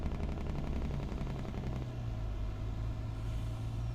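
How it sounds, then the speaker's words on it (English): A truck's engine and turbo in the Farming Simulator 22 video game drone loudly and steadily, with a rising whine layered over the deep rumble, and no voice over it. "Man, I can hear the turbo spool up on this bad boy."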